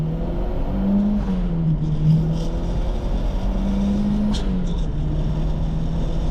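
A turbocharged 2.5-litre Mazdaspeed NC Miata engine drones steadily from inside the car during a launch, with the pitch rising, dipping at a shift and climbing again.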